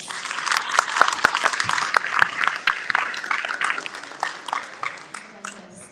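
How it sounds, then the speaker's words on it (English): A graduation commencement audience claps loudly at first, then the applause gradually thins and fades toward the end. "Let's give her a round of applause."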